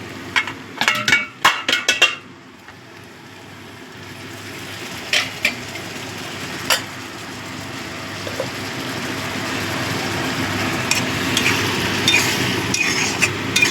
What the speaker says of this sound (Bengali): একটু গরম জল দিয়ে ভালো করে মিশিয়ে নেব।